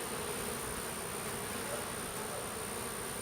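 Honey bees hum in an open hive with foundationless frames during a brood and drone check, a steady dense buzz throughout.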